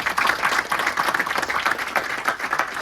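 An audience at a film screening presentation applauds the ambassador, a brisk, continuous patter of many hands clapping at moderate loudness.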